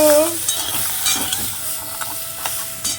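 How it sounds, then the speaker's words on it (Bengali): Crab fries lightly in a wok, hissing and sizzling with crackling spatters and a few stirring scrapes over about three seconds. "দেখো কড়াইতে দিয়ে জাস্ট হালকা ফ্রাই করে নিচ্ছি"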